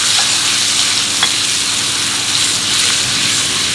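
Ground garlic and kencur sizzle steadily in hot oil in a pan, a loud, close, continuous frying hiss with faint stirring clinks and no speech.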